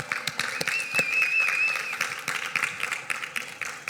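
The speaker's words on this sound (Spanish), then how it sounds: "¿Le puedo dar usted un aplauso," Church congregation clapping, a modest uneven patter of hands at moderate distance, fairly soft with individual claps standing out, with a brief high tone ringing faintly above it.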